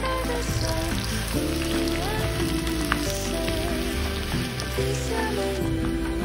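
Korean fish cakes and onion stir-frying in a hot pan, with a steady, close crackling sizzle throughout and occasional light clinks.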